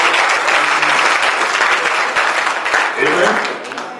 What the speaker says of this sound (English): Please clap your hand for the Lord.